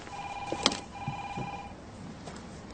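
A telephone rings in a police station, a short electronic ringing burst with a sharp peak, then fading into quiet room tone.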